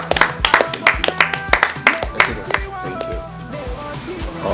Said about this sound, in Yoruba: ẹ jọ̀ọ́ ẹ bá mi fún ní àtẹ́wọ́ kí ẹ lọ dúpẹ́ lọ́wọ́ ẹ̀